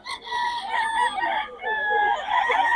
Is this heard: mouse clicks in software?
no